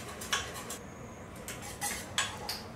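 Custard for crema bianca being whisked by hand, giving a few faint, scattered clinks and taps of a whisk against a bowl with quiet gaps between them.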